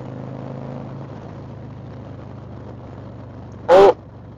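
Harley-Davidson or Indian motorcycle engine in second gear, throttle held open in a steady low rumble that lingers for several seconds, then a brief loud burst near the end.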